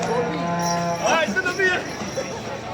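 Cattle moo loudly nearby at a livestock market in Jagraon with cows and buffalo, a drawn-out low call rising and bending, with other animal sounds and murmuring voices around.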